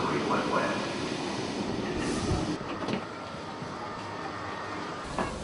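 A train arriving with passengers travelling by rail, a steady rumble of wheels on track with occasional metallic clanks and squeals, heard close and continuous for several seconds.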